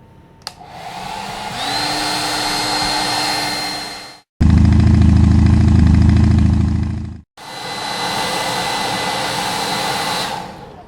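A hair dryer blows on a painted Santa hat in three loud, steady whirring runs, the middle one switched to a deeper, rougher setting, with brief cutoffs between runs.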